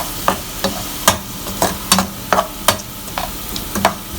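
Green peas with turmeric sauté in a pan for pulao, a spoon scraping through them in a steady rhythm of about ten sharp strokes over a soft, constant sizzle.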